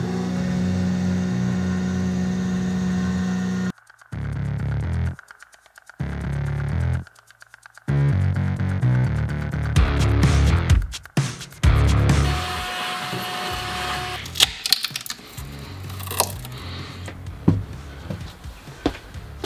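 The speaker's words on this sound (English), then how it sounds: "There's no real need for me to make this part on the CNC, but I just got it and I want to test it." New CNC machine cuts a part for a DIY tornado machine, its motor whirring and humming with repeated stops and restarts, then rising into harsher grinding and scattered clicks and knocks.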